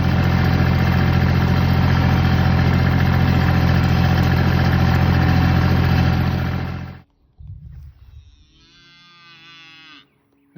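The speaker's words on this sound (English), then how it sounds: "I just took my little yard tractor right here and just run over the trench one time on each side, there and back" A small yard tractor engine, used to pack down a cable trench, runs loud and steady for about seven seconds, then cuts off and leaves quieter, scattered sounds.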